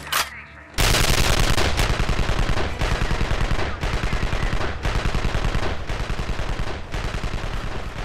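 Gunfire in the video game Evil Genius: loud, rapid bursts of shots repeating in a steady rhythm of roughly one volley per second after a brief quiet start, no talk.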